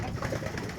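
A pet breeder pigeon in a yard gives soft, low cooing in a brief burst, with a faint engine hum behind it.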